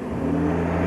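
A truck pulls away near a New Zealand timber mill in 1991, its engine revving with a loud, steady low rumble throughout the short moment.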